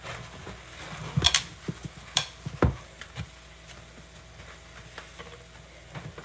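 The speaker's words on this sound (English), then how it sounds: "Give it another last stir." Food stirred in a pan with a utensil: a few sharp scrapes and clatters that come in irregular bursts over a soft background sizzle, close by with no talking.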